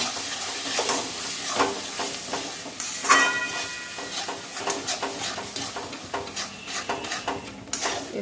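Mashed flat beans for shim bhorta fry in a pan with salt and sugar, a steady sizzle under repeated scraping and clattering strokes of a spatula against the metal pan, close up, with no talk.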